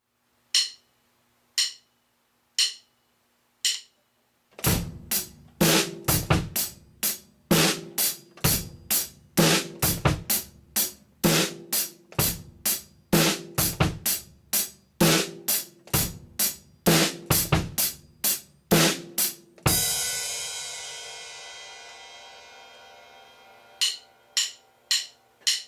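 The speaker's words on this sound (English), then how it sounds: "we have the bass drum on and of 2" Rock drum beat on a kit with eighth-note hi-hat and bass drum on the and of 2: a few lone hi-hat clicks count in, then a steady groove of kick, snare and hats, a crash ringing out, and closing hi-hat taps.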